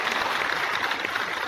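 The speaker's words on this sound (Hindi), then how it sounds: "इनके नाम पर ताली बजाइए" Audience clapping steadily at a public gathering in Bihar, a dense, continuous patter of many hands with no talk over it.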